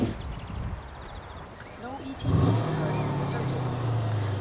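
A Mercedes-Benz E550 of the W212 generation fires up at about two seconds, settling into a steady, fairly loud idle after the crank. Faint rustling and a quiet background come before the start.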